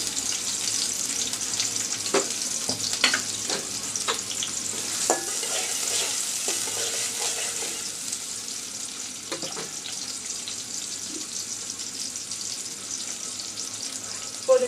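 Chopped onion and garlic fry with okra in a pan, a continuous bright hiss of frying with scattered scrapes and clinks of stirring throughout, close and steady.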